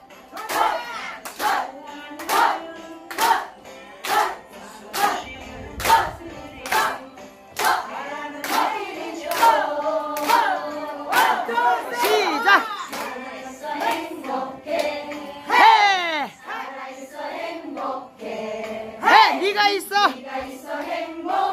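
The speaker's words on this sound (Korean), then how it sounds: "해병대 박수." A group of seniors at a community senior school performs a marine-style clap: sharp, loud unison claps in a steady rhythm, with shouted chants and singing voices mixed in.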